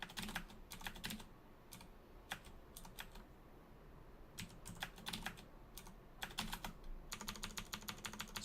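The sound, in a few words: computer keyboard tab key being pressed repeatedly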